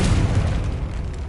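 Confringo fire spell explosion in the video game Hogwarts Legacy, a single loud booming blast with a deep rumbling body that decays over about a second.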